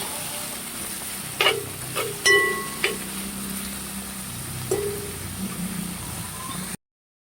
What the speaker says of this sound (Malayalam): പച്ചമുളക് ഇടുന്നത് നല്ല ടേസ്റ്റാണ്. ഇതൊന്ന് വഴന്ന് വരട്ടെ കേട്ടോ.